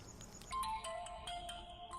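A mobile phone rings with an incoming call, its electronic ringtone playing a bright, repeating melodic pattern of short tones, fairly faint against a quiet background.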